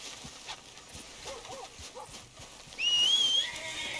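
Rapid clip-clop of horse hooves in Red Dead Redemption 2, with a high whinny-like tone near the end over busy background sounds.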